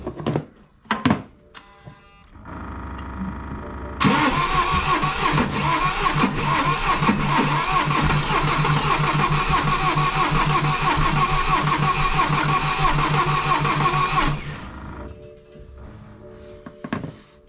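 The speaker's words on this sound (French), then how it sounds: "normalement elle devrait démarrer si j'ai fait mon boulot comme il faut" A BMW X3 F25 diesel engine is cranked after a double timing chain repair and catches, settling into a loud, steady idle close by for about ten seconds before it shuts off. Clicks and clunks come before the start.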